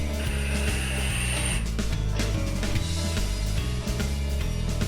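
The airflow adjustment ring on a BFDFT 30mm RTA vape tank by Cloud Chasers Incorporated is turned, making a rapid series of crisp ratcheting clicks close up, with no voices.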